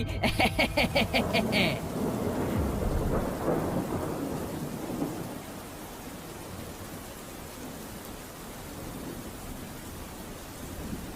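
A thunderstorm in a cartoon: a rolling crack of thunder breaks in after a brief rhythmic beeping, then settles into a steady wash of rain that fills the rest of the scene.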